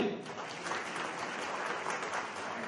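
A crowd at a political meeting claps for the city officials being recognised, a soft, even wash of many hands heard from a distance.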